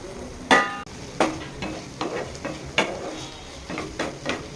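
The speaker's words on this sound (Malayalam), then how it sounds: "എല്ലാം കൂടി നല്ലോണം ഒന്ന് വഴറ്റിയെടുത്തുകൊണ്ട് വരാം ഒന്ന് വേകാനായിട്ട് വെച്ച് വയ്ക്കാം ലോ ഫ്ലെയിമിൽ ഇട്ട് കൊടുത്ത് വേവിച്ചെടുക്കാം" Brinjal sautéing in a pan over a low flame for a village-style brinjal chammanthi, with soft sizzling and a series of scraping stirs of a spatula against the pan recurring roughly every second, close and moderately loud, no voices.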